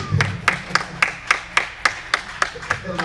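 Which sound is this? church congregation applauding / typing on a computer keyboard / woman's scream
church congregation applauding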